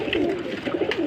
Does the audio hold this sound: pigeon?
yes